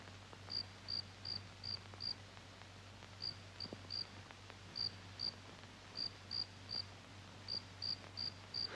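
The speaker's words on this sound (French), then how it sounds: "ce n'est pas dans votre tête, c'est un grillon" A cricket chirps in short, evenly spaced bursts, repeated steadily over a low constant hum; faint and alone with no talking.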